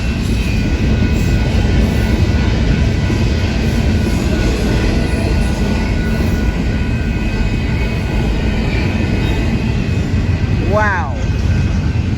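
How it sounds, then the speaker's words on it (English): Freight trains led by ES44AC locomotives roll past in a triple meet at Sulfur and Knox avenues. The rumble stays steady and close throughout, and a brief rising squeal or horn-like sweep cuts through near the end. "I think that's a triple train meet right there."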